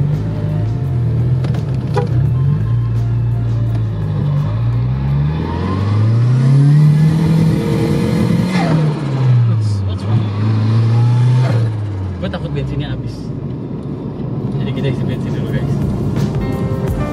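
A BMW E30 engine, its blow-off hose just repaired, revs up and down in several strong sweeps, climbing to a high peak mid-clip before falling back, loud and close, with people talking nearby.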